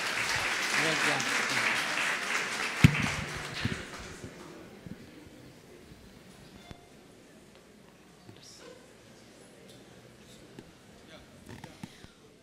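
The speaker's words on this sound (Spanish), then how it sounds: "Un aplauso." Audience at an academic conference on accredited educational quality applauds after a talk, steady clapping that fades away over several seconds, with a brief spoken thanks near the start and scattered claps afterward.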